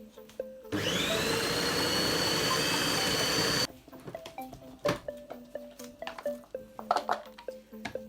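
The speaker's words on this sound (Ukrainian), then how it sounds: "Кілька нажатів трішечки подрібнемо." An electric food chopper whirs loudly and steadily for about three seconds, mincing vegetables and buckwheat for vegetable-buckwheat patties, then cuts off, followed by quieter clinks and scraping of the bowl and utensils.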